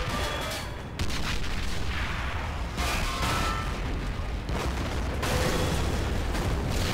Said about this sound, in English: Boom, explosions.